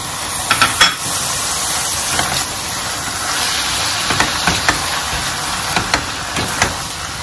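Fresh tomatoes frying with ginger garlic paste in a pan for gizzard curry, a soft steady sizzle broken by scattered sharp clicks and scrapes of stirring.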